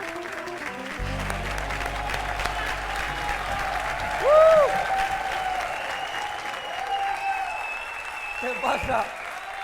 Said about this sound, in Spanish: Y un fuerte aplauso para Jorge Cuello.